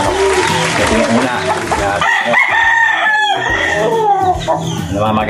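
Chickens cluck and a rooster crows loudly nearby, overlapping calls filling the scene with steady barnyard noise.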